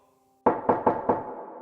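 Four firm knocks on a wooden door in a steady rhythm, close and distinct, used as an effect in a horror story about a village midwife in a forest.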